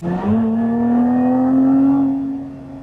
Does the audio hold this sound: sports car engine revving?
yes